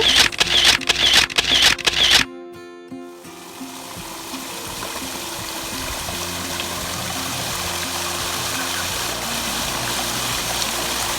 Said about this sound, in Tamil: இதை பாருங்க எப்படியெல்லாம் சிலைகளிலிருந்து தண்ணீர் வருகிறது